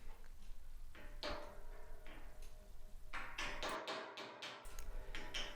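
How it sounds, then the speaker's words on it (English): Hammer blows drive tight-fitting 2-inch inserts into place as feet on a built-in tool chest workbench, a run of sharp, close knocks at irregular intervals, some quick in succession. "so I really had to hammer them into place."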